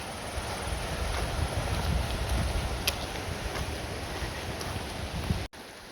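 Bear Creek runs along a mountain trail as a steady broadband rush of flowing water, close and constant, with wind buffeting the microphone and a brief dropout near the end.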